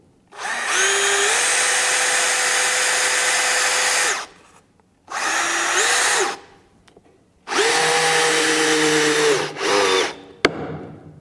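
A Metabo cordless drill fitted with an angle attachment drives a large screw in loud bursts: a long whine, a short burst, then another long run with changing pitch, each separated by brief pauses.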